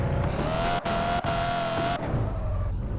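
A car drifting in the racing-style game Car For Sale, a sustained engine whine with rising and falling pitch, broken by brief gear-shift dips, loud and close with no talk.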